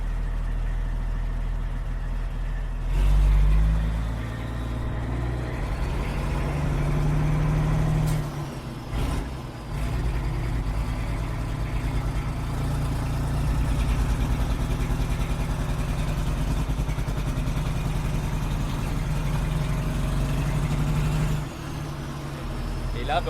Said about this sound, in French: on entend que le moteur il ratatouille, donc c'est difficile de faire un diagnostic comme ça, mais j'imagine qu'il y a peut-être un cylindre qui ne tourne pas